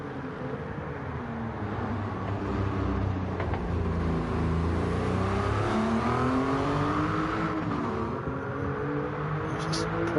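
A Porsche all-wheel-drive turbo car in Gran Turismo 7 roars steadily, its engine revving up and down through rising and falling pitch sweeps, loud and continuous with no talk over it.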